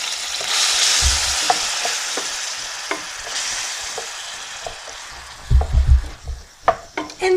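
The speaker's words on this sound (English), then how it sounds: "now I'm going to add the onions and the celery to my pan with the olive oil in there." Onions and celery fry in olive oil in a pan, a steady hiss of sizzling with scattered taps and scrapes from stirring, followed by a few louder thumps and clatters at the end, with no talking.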